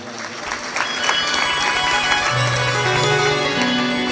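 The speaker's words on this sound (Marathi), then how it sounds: "यांच्या सर्वांसाठी एकदा टाळी वाजवा" An audience applauds at a live religious discourse (Bhagavat katha), with a burst of claps swelling into steady, dense clapping from a large crowd, and musical tones sounding faintly underneath.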